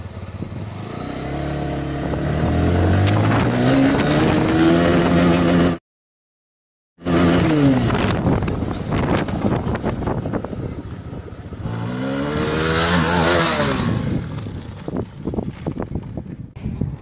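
A TVS Apache RTR 180 BS6 motorcycle pulls away in first gear, the engine note rising loudly as it accelerates, then after a brief dropout it revs and climbs again with wind rush over the microphone.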